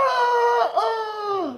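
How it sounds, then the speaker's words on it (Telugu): A chicken gives a single drawn-out, wavering call, close and clear with no other sounds around it, as the sound to be guessed in a game. "కుక్క కాదు, కోడి."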